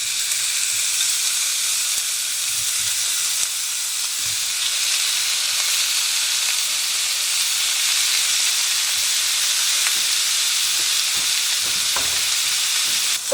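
Very lean grass-fed ground beef browns in a thin layer of oil in a pan, giving a loud, steady frying sizzle with faint occasional clicks and no talk.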